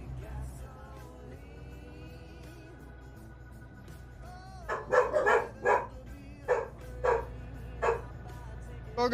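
Several dogs bark in a quick run of loud, close yaps and woofs over a steady engine hum, with a low voice speaking faintly earlier on.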